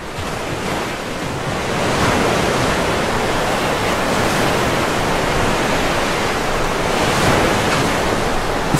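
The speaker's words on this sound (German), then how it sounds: "Ist ein bisschen laut hier am Wasser." Loud, continuous rushing water noise beside water in the Minecraft video game, a steady surf-like wash that swells slightly and persists without interruption.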